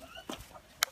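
Chickens at a village home in rural Pakistan give a few soft, brief clucks close by, with a sharp click near the end.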